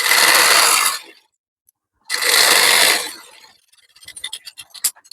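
An electric sewing machine stitches a blouse waistband in two loud bursts of about a second each, separated by a short silence, followed by several sharp clicks and taps as the fabric is handled.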